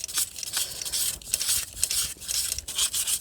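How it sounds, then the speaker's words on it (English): Hand sanding of metal with 800-grit sandpaper on a Peugeot 2008 during water pump replacement: steady rubbing strokes rasp back and forth, close and fairly loud, with no talking. "we're gonna follow up with the sandpaper. This is 800 sandpaper,"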